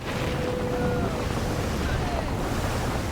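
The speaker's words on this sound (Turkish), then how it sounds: "büyük bir fırtına var denizde şu anda. Yani dev dalgalar arasında gitmeye çalışıyorum." A heavy sea storm in the pirate naval game Skull and Bones, with loud, continuous crashing surf and roaring wind across the whole stretch and no pauses.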